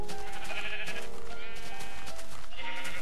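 Sheep in Minecraft bleat in the game, several loud, wavering calls repeating over busy game ambience, near and clear.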